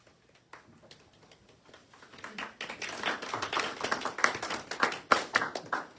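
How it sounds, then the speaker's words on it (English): Applause at a credit union's annual meeting as a board member comes up to speak: sparse claps at first, building over a few seconds into fuller, close clapping from the audience. "I get the applause before the presentation."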